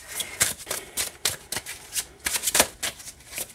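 Tarot cards with high-quality cardstock being shuffled, a quick series of crisp riffling bursts and soft flaps at close range, with no talking.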